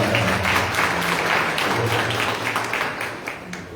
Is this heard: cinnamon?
no